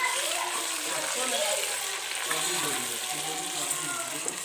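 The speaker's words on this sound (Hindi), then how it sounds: "ऑयल मेरा गर्म होने लग पड़ा है, मैंने डालना है चिकन।" Chicken fries in hot oil for Sindhi biryani, making a dense, continuous close-up sizzle and crackle that holds steady the whole time, with a voice faintly underneath.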